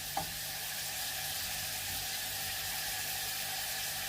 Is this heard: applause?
no